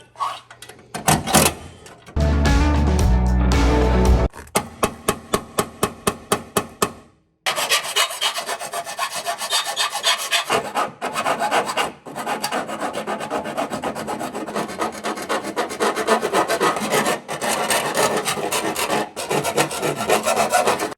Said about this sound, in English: I use my handy dandy deburr tool again.